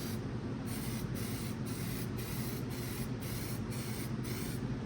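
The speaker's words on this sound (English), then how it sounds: "I'm going to spray a quick coat on the bumper, just the uppers for now" A spray can lays a continuous hissing coat of weld-through primer onto the upper section of a classic car's front bumper, a steady, close, unbroken spray with no talking.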